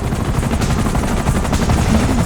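A helicopter and gunfire in GTA 5 gameplay: steady loud rotor thumping with dense rapid shots layered on top, continuous and close throughout.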